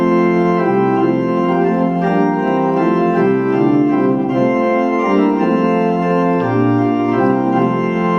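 Pipe organ playing with the swell coupled to the great, flutes and plein jeu sounding together in a full, sustained chordal texture of rich harmonics, steady and loud throughout with shifting chords and no talk.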